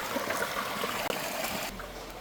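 Flowing water at a hidden waterfall in Hebri, a continuous rushing, trickling stream sound, fairly close and steady, with no talking.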